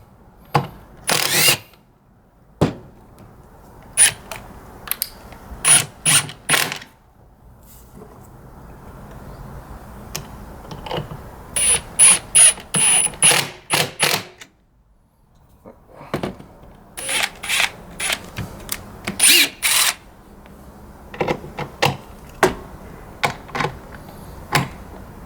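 Two cordless impact drivers, a Metabo HPT Triple Hammer and a Milwaukee Fuel Gen 1, drive fasteners in turn, giving loud close bursts of rapid hammering with short pauses and a few sharp clacks between runs.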